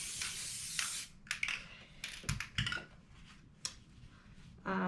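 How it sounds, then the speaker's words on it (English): Several short hissing bursts from a spray can, quiet and close, with brief pauses between sprays. "I'm gonna add a little spray just to keep it in place."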